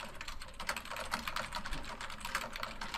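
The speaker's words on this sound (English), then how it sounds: "That's Daniel typing in frustration" A computer keyboard typed on in frustration: a fairly quiet, steady, rapid clatter of keystrokes with no talk.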